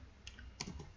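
A few light computer mouse clicks while working in software, faint and sharp, two or three quick ticks close together within about a second, alone.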